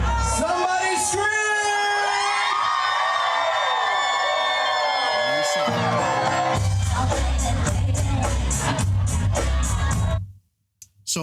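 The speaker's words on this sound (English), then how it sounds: "Somebody scream!" An audience at a music show screams and whoops loudly and continuously, with a sustained crowd roar that cuts off abruptly near the end.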